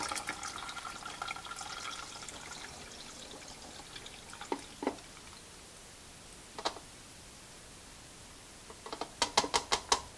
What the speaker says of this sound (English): what we're going to do is actually just pour this right back into the color developer tank